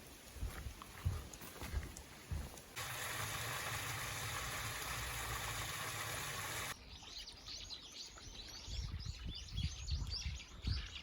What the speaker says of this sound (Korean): 새 소리 들으면서 산책할 수 있습니다.